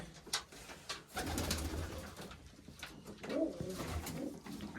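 Pigeons, including a newly paired couple, coo softly in a loft, with several low rolling coos and a few wing flutters and small knocks, fairly faint and close, no talking.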